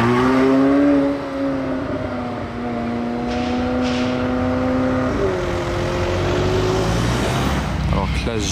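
A Ferrari drives past on a street in Monaco, its steady engine drone holding close and loud throughout, with a slight shift in pitch midway as it moves by, while people talk nearby.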